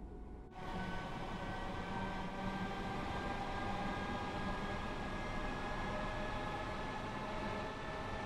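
A passenger train in Train Sim World 3 runs steadily on the Cathcart Circle, a continuous loud rumble with tonal hum and whine that starts abruptly and holds evenly throughout, no voices.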